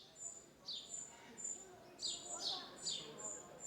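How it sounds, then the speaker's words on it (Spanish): Several small birds singing in the Spanish city of Cáceres, a string of high, thin chirps and short trills coming in bursts at a moderate distance over quiet background hum. "Pero quizá antes estuvo el canto de los pájaros."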